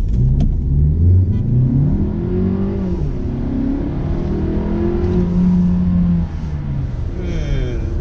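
A 2018 Volkswagen Tiguan S 4Motion launches from a stop, its engine revving loud and close in a sustained drone that rises and falls in pitch, briefly dipping before climbing again.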